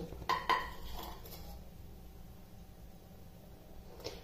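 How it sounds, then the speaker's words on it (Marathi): A metal lid clinks and scrapes off a pot of semolina cake batter in two quick knocks, followed by quiet room hum and a faint clink at the end. "आता आपण याचं झाकण काढून घ्यायचं।"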